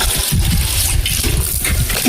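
Water splashes and gushes into a bucket in a continuous close, loud pour with a turbulent, bubbling texture throughout.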